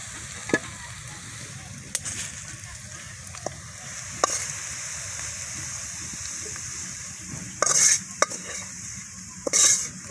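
Onion and chili fry in oil in a pan with a soft, steady sizzle, punctuated by sporadic spoon clinks and two louder scraping stirs near the end.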